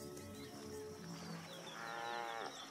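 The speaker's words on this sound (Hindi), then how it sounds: "भैंसों का एक छोटा सा झुंड घुटने तक गहरे पानी में है और अपनी प्यास बुझाते हुए ये शोर भी कर रहे हैं।" A small herd of African buffalo stands knee-deep in water, drinking and lowing, with low drawn-out moos rising over a steady ambient background and no talk.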